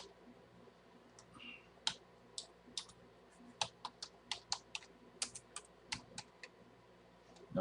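Keys clatter on a computer keyboard as a business address is entered into an online SBA COVID-19 disaster loan application, a quick irregular run of sharp clicks coming close and clear with no talking.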